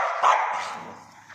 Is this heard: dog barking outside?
yes